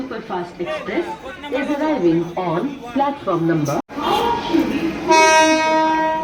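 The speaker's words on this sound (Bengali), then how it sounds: "ফুল সুপারফাস্ট এক্সপ্রেস ঢুকছে যেটা হাওড়া থেকে শিলিগুড়ি যাবে" Close-up station noise with people talking as a Howrah–Siliguri superfast express pulls in, ending in a loud, sustained horn blast over the rumble.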